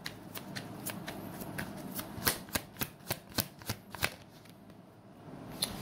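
A deck of tarot cards is shuffled up close, a run of crisp riffling snaps and paper flutters with a steady, even rhythm before tapering off.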